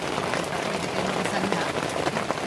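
Heavy rain drums steadily on a tarpaulin shelter, a dense continuous patter that stays loud and close throughout with no talking.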